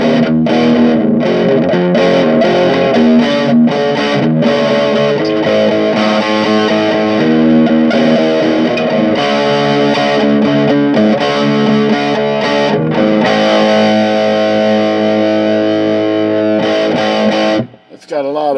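An electric guitar is played through an amp with a Raytheon Black Plate 5751 preamp tube, giving a loud, sustained, smoothly distorted tone with chords and single notes ringing for most of the stretch before a brief drop near the end.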